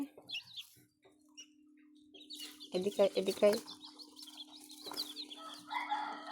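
Newly hatched chicks give high, thin peeps around a hen's low clucks, close and moderately loud, while a person speaks briefly in the middle.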